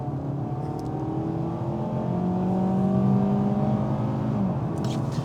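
2022 Mazda CX-3 accelerating gently in sport mode, heard from inside as a steady engine hum with rising tones and road noise, moderate and continuous.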